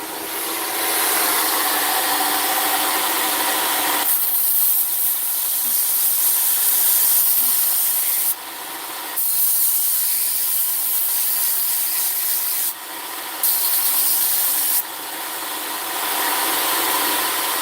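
A knife blade being sanded and sharpened gives a loud, steady abrasive rushing hiss, with a few brief pauses and shifts in pitch as the work goes on, and no voices.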